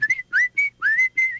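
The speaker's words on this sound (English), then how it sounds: "He was singing and whistling" Brother Rabbit whistles in the PS1 storybook game 16 Tales: five quick, bright notes, some sliding upward, close and clear with no voices.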